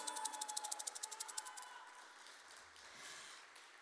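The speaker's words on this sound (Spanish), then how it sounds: "Fuerte el aplauso para ustedes." Faint, rapid rhythmic clapping from an audience at a live multicultural festival show, a quick run of sharp claps lasting under two seconds before fading into a soft room hush.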